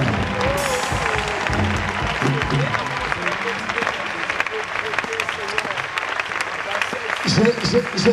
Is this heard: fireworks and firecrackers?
no